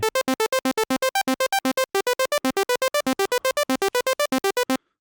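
An ASM Hydrasynth plays a rapid, evenly pulsed arpeggio of bright, buzzy notes cycling through a minor pentatonic pattern, loud and alone.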